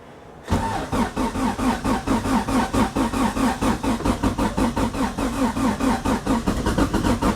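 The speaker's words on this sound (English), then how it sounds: "it is time for the startup. We gotta turn the key on." A Honda Civic with a nearly dead battery fires up about half a second in after the key is turned, then settles into a loud, steady, rhythmically pulsing idle that runs alone for several seconds.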